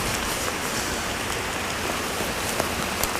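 Rain pattering onto open water and a fishing rod, a dense, even hiss of drops with a few sharper taps standing out, close and steady.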